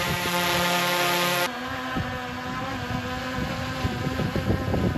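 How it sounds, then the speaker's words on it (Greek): A DJI camera drone hovers or flies nearby with a steady, buzzing propeller and motor whine full of tonal harmonics. The pitch and loudness shift slightly after the first moment, alongside faint crackling handling noise. "θα δούμε και την διαφορά του ήχου σε αυτά τα δύο drone"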